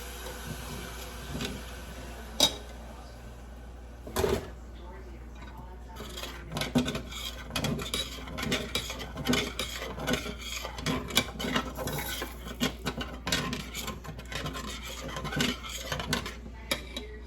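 Garlic sauce is stirred and scraped into a dish of mixed vegetables, sounding as rasping spoon-on-bowl strokes, sparse at first and then a busy run of close scraping and clinking.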